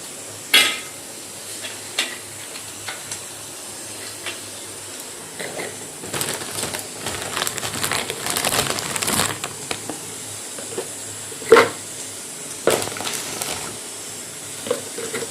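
Biscuits poured out from a container in a home kitchen make a brief rattling clatter midway, with scattered clinks and knocks before and after, close and fairly quiet.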